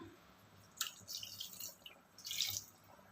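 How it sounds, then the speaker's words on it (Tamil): Water splashes and trickles in two short bursts, close and fairly quiet, like liquid being poured into a pot. "நல்லா இன்னும் கொஞ்சம் தண்ணி சேர்த்துட்டு"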